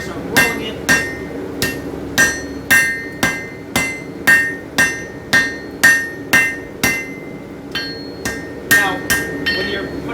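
Hammer blows ring out against a San Mai steel billet on an anvil while a chef knife is being forged, about fifteen sharp metallic strikes in a steady rhythm, close and loud with brief pauses between them.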